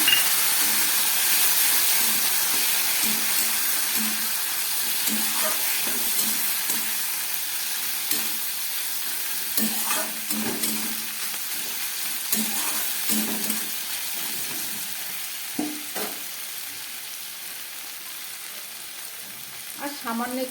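Ground mustard and chili paste hits bitter gourd in a hot pan, setting off a steady, close sizzle and hiss that softens slightly, broken by occasional scrapes and taps of stirring.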